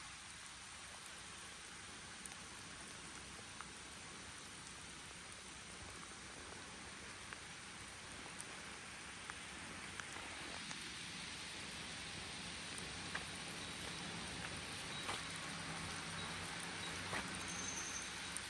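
Steady rain falling in Japan in July, a dense even hiss that grows slightly louder toward the end, with scattered drips and no voices.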